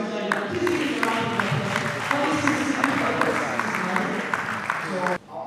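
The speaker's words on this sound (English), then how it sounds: "Please give a round of" A tech summit audience claps through a continuous round of applause, dense and steady with individual claps standing out, before it cuts off abruptly near the end.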